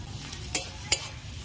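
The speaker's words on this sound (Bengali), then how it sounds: "আদা রসুন লঙ্কাটা অল্প ভেজে নেব।" Ginger, garlic and green chilli fry in oil in a pan, a soft steady sizzle close by, punctuated by two sharp clinks of a utensil against the pan.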